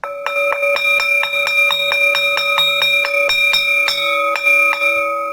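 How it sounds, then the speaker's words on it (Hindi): A bright school bell rings in a rapid, steady series of metallic strikes, loud and close, with overlapping tones sustaining throughout. "घंटी बज गई थी और स्कूल में लंच का टाइम हो गया था।"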